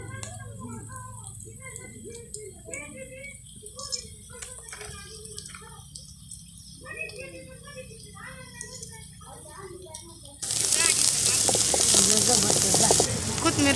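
Cumin, mustard seeds and coriander are tempered in hot oil for a village-style kurdai vegetable dish. A soft sizzle runs under a woman's speech, then a loud, steady, hissing fry bursts in near the end.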